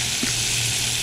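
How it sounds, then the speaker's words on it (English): Tomatoes going into a hot, sizzling jambalaya pot: a brief, loud, steady sizzle heard close up. "Let's add our tomatoes back to it."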